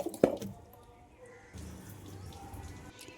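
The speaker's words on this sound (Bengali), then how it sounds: "কেটে রাখা আলু এবং বেগুনের টুকরোগুলো জল দিয়ে ধুয়ে পরিষ্কার করে" Cut potato and brinjal pieces are washed in a bowl of water, with a sharp splash and drip at the start and then soft sloshing and trickling.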